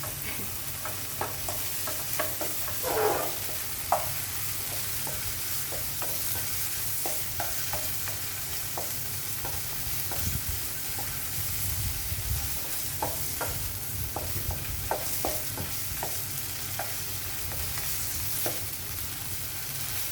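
Tofu frying in a pan for gluten-free pad thai, a steady close sizzle with repeated clinks and scrapes of a spatula stirring throughout, and no talking.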